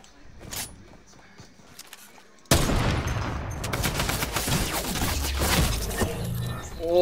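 Rapid automatic Tommy gun fire in Fortnite, a sudden loud sustained burst of dense shots following a quieter stretch with a few scattered sounds, continuing steadily to the end.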